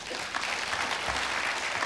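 A church congregation claps together during a sermon, a steady crowd of applause with a few louder hand claps standing out, somewhat roomy and moderately distant.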